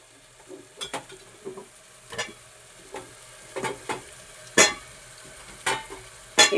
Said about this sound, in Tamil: இப்போ இந்த உருளைக்கிழங்கு போட்டு நல்லா கிண்டிடுவோம்.